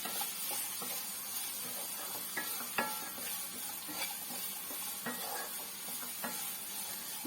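Onions sautéing with salt in a pan, a soft continuous sizzle with a run of light scraping and tapping stirs, quiet and close, with no talking.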